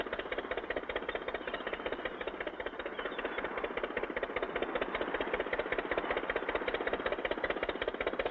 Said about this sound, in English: As Phineas P. Pennygrabber leaves, the Guppy moves from the dock and is underway